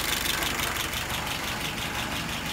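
The WO 636SA engine idles steadily at close range, a loud even rumble with a quick regular pulsing beat and no voices over it.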